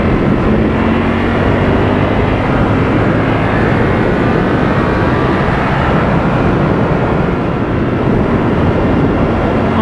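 A 2018 Ducati Panigale V4 rides along a street, its engine a steady loud broadband roar blended with rushing wind noise, unbroken for the whole stretch with no talking.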